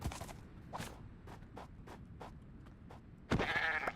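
In a hardcore survival video game, a goat lets out one loud, raspy bleat near the end, after a run of evenly spaced footsteps crunching along at a walking pace.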